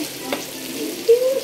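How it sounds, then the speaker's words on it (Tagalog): Chicken kaldereta frying in a pan and being stirred, a soft close sizzle with a brief scrape of the spoon, no talk. "So, haluin na natin."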